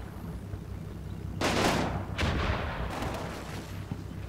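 Tanks firing in a strategy war game: two loud booming blasts about a second apart, each with a long rumbling tail, then fainter rumbles over a low steady background hum.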